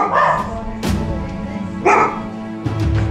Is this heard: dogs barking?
yes